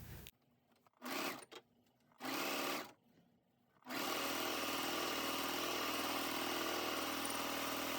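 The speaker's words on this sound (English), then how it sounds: "I'm doing it on a serger, but you can also just use a regular sewing machine." A serger starts and stops in short bursts, then runs continuously with a fast, steady mechanical whir, close and loud, sewing a leggings fabric seam.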